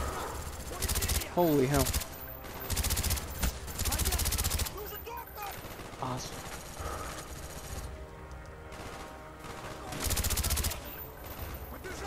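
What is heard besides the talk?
gunfire in Call of Duty Black Ops video game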